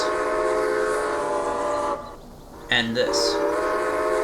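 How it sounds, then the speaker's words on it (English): A two-note steam locomotive whistle from the Railway Empire video game sounds loud and close, holding its chord for about two seconds before a short gap, then sounding again with a brief spoken word over it. "this is one of the few whistles in the game that have two types of notes"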